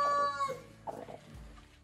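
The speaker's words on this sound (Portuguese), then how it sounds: "eu gosto demais das minhas galinhas" Farmyard chickens at a rural homestead give a few short clucks and squawks, fairly close but quiet, with pauses between calls.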